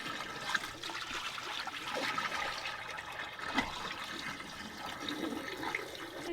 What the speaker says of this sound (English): can you dump this water out?